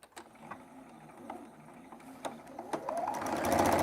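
A sewing machine stitches quilt fabric squares together for a Christmas stocking, opening with a few soft clicks and rising into a steady, close, fast mechanical whirr of running stitches.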